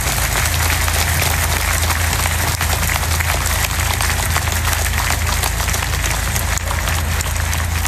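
A crowd at an Italian political rally applauds steadily for an activist injured overnight in Livorno, dense continuous clapping throughout with a low steady hum underneath.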